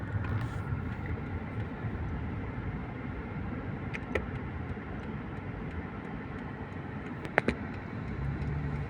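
Steady road traffic rumbles near a petrol station in congested conditions, a continuous low wash of engines with a couple of brief sharp clicks or squeaks near the end.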